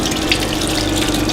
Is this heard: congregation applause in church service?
no